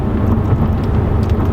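A Genesis V8 car accelerating with its exhaust cutouts closed, a loud, dense low roar that holds steady and fills the whole short stretch with no voices.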